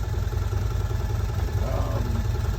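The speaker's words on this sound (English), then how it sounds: "short of actually running the engine until the fan comes on, which is what I'm in the process of doing" A Can-Am Commander engine runs at idle during a radiator coolant service, a steady, close low rumble with a faint clatter throughout.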